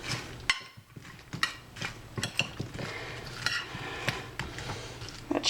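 A spoon stirs a food mixture in a bowl or pan, making irregular clinks and scraping taps against the dish at close range, with soft rustling between strikes and no talking.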